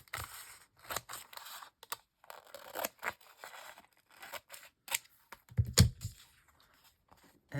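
Scissors trimming a handmade paper bookmark: a run of short, close snipping and crisp paper cuts in an uneven rhythm, with a heavier thunk near the end and no talking.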